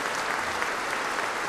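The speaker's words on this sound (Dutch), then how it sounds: "En dit applaus dat nu even een crescendootje inzet, dat is voor het grote omroepkoor." Dense, steady concert audience applause in a hall after a performance of Handel's Alexander's Feast with the large broadcast choir, a continuous wash of many hands at even loudness.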